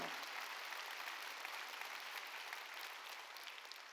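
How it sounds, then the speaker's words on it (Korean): A congregation claps during a Wednesday worship sermon, producing a continuous, full crowd applause that stays fairly even throughout, heard alone without talking. "깨달은 사람만 박수요."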